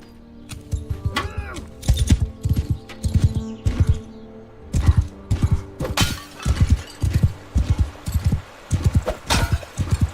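Horse hooves in Mount and Blade: Bannerlord pound in a steady rhythmic gallop, with loud, close, repeated thuds and clattering impacts throughout.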